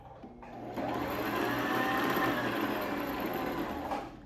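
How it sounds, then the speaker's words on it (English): A domestic sewing machine runs steadily while winding a bobbin, a continuous close motor whir that starts up after a short quieter moment and holds at an even level before easing off at the end. "as you can see, it's winding the bobbin"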